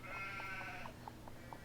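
Sheep bleating in the Nancy Drew video game: a drawn-out bleat at the start, then a string of soft, evenly spaced short calls over a low steady background hum.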